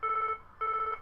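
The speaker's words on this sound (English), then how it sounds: "Oh, that's the phone." Telephone ringing with two short electronic trills separated by a brief pause, clear and close with no talk.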